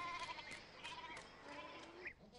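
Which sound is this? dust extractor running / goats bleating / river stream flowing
goats bleating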